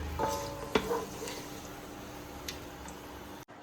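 Cashews and raisins fry in a pan for carrot payasam, giving a steady soft sizzle with a few clinks of a utensil against the pan, alone without talk.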